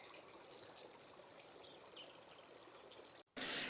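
Water running and trickling down from higher ground at Ogden Water reservoir, a steady close stream over about three seconds, briefly cut before a louder, brighter burst of flow.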